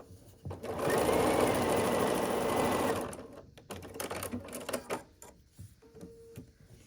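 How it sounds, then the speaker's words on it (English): A sewing machine stitches the final seams of a quilt block, running steadily and loudly for about two seconds, then stopping, followed by softer handling clicks and rustles. "now we have 2 final seams to sew here for our block"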